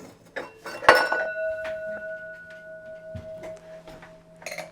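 A wine glass is handled on a counter while a Hugo cocktail with Prosecco is made, with a bright clink that rings on, then softer taps and knocks nearby.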